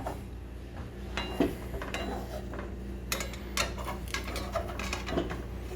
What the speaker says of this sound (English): Use a spatula, just loosen up the edges, just pull on it.